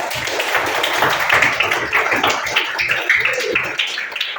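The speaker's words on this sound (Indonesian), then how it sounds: "Sekarang tepuk tangan dulu ya" Students in a classroom applaud together, a dense, steady patter of many hands clapping for several seconds without talk.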